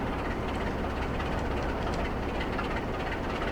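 A freight train rolling through a Scottish dockside line in Trainz on Xbox Series X, a steady broadband rumble and rattle of wagons, continuous and moderately loud, with no talk.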